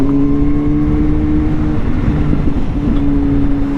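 A 2023 Kawasaki ZH2 supercharged motorcycle riding in fourth gear sends out a loud, close engine and exhaust drone that holds steady with a slight shift in pitch midway.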